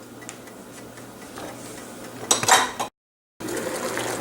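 A lid clanks onto a metal pot of mussels cooking on a stovetop, a brief metallic rattle and clatter over quiet kitchen background noise.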